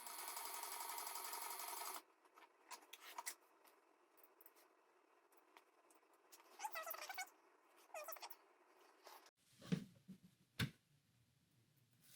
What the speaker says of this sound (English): I'm going to stitch down this pocket